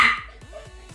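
A pet dog barks once, close and loud at the start, followed by softer whimpering yips, indoors during guinea pig grooming.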